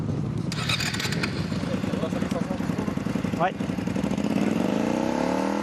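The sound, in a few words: motorcycle engine revving for a noise test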